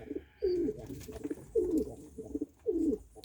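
A Capuchine pigeon coos in a breeding loft in Jamaica, three close, clear, throaty coos at evenly spaced intervals, with quiet gaps between them.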